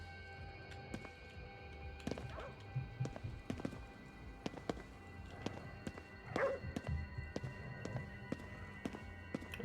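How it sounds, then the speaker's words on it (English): Dogs bark intermittently in a supernatural Tokyo video game, fairly faint and scattered amid clattering footsteps and other game noises. "I hear dogs barking, hopefully they are friendly dogs."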